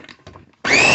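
A few faint knocks and rustles, then a Ninja blender chopping meatballs abruptly whirs to life at full power, loud and steady with a rising whine.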